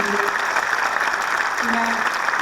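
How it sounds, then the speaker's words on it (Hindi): Steady applause from a large audience at a poetry mushaira in Dubai fills the clip, a continuous wash of clapping with a faint voice underneath. "एक बार जोरदार तालियां बजाकर मुझे मन दीजिए"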